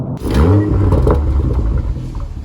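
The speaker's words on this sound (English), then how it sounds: "I've just become addicted to the sound that the car, that the exhaust releases as you're going." BMW M340i accelerating with its exhaust note rising, a loud, close engine roar with revving harmonics climbing over the first second, then a steady throaty drone with some clatter.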